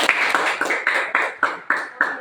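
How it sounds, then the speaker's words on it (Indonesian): Students in a classroom clap together in a steady, rhythmic unison pattern for a student group, about eight sharp claps spaced evenly and close by. "Kasih tepuk tangan untuk kelompok."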